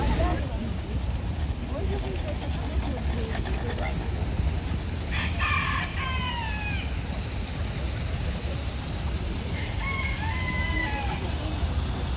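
Roosters crow in a winter subtropical arboretum park in Sochi, two separate crows standing out midway and near the end against steady outdoor background noise, with faint voices around.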